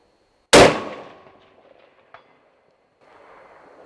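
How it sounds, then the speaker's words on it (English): A single sharp rifle shot at a target cracks loud and close, ringing out and decaying over about a second, followed by a faint distant metallic tick and quiet background. "I'm going to do the same shot here."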